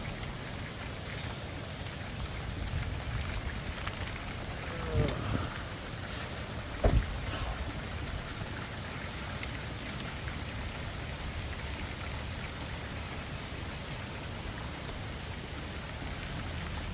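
Steady rain hiss on open water during a drift-fishing trip on the Lower Laguna Madre, a constant wash that runs throughout, with a couple of faint knocks partway through and no talk.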